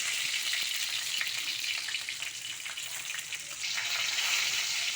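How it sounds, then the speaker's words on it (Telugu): Chana dal, green chillies and cashews fry in hot oil in a pan for upma, giving a loud, steady, close sizzle with a few faint stirring scrapes and no talking. "ముంతమాడిపప్పు కొద్దిగా బాగా వేగాలి"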